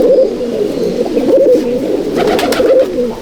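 A crowded pigeon loft of Andhra pigeons at Halisahar, with a continuous loud chorus of overlapping low coos and a brief flutter of wings near the end.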